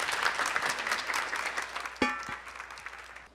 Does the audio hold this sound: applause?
yes